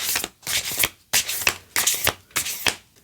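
A deck of tarot cards being shuffled by hand, five quick riffling bursts in a steady rhythm with short gaps between them, close and crisp, no talking.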